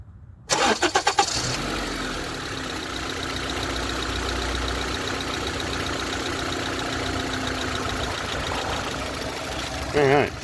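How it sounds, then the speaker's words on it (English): A 2014 Honda CR-V fires up on remote start: a brief loud crank catches into a steady, close idle that hums evenly for several seconds before a short loud burst near the end. "So this thing fired right up even with remote start."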